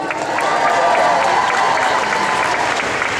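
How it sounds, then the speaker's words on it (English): Audience applause at a comic-con style panel, a dense, loud burst of clapping with some cheering that rises quickly and holds steady for a few seconds. "Big belly round of applause, please."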